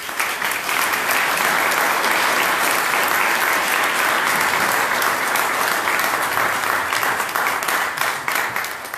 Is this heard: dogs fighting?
no